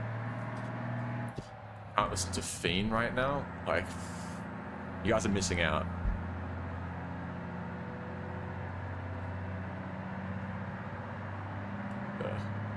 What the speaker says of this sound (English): all you guys can hear is just the sound of the truck